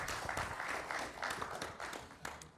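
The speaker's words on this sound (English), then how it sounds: "If I can have a round of applause for the panelists." A conference audience gives the panelists a round of applause at a forum on social enterprises in Asia, the clapping soft and fairly distant, rising and falling in steady waves.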